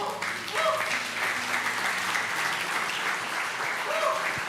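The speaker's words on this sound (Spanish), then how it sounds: "fuerte ese aplauso al Señor" A church congregation applauds during a Spanish-language service, steady mid-level clapping from a large crowd with a voice speaking faintly underneath.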